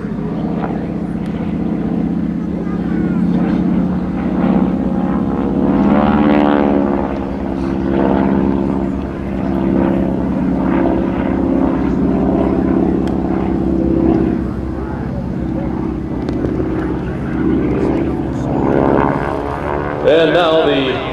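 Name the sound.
T-6 Texan propeller aircraft flying at an airshow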